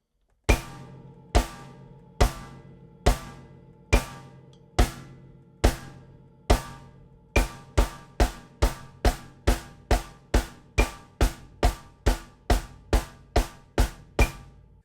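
Kick, snare and hi-hat strike together in unison, first on a steady quarter-note pulse, then doubling to faster eighth notes; loud, close, no voices.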